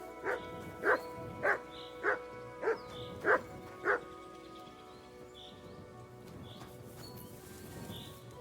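A dog in Kingdom Come Deliverance 2 barks seven times in an even, steady rhythm, each bark clear and fairly close. The barking stops and a soft, rain-like ambience carries on alone.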